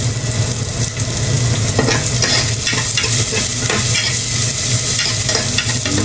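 Garlic and onions fry in a pan, a loud dense sizzling hiss with a low steady hum beneath and small crackles, close-up and unbroken, with no speech.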